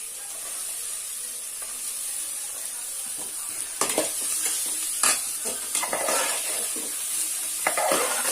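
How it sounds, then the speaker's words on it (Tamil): A spoon stirs and scrapes through beetroot frying in a pan, with a soft steady sizzle and intermittent clinks and scrapes. "போட்டுட்டு நல்லா கிளறி வச்சுக்கோங்க"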